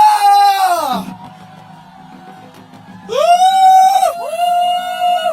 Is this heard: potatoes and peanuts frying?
no